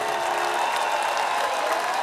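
Applause from a concert audience at a pop group's anniversary show, a steady dense wash of clapping that holds evenly for about two seconds with no break.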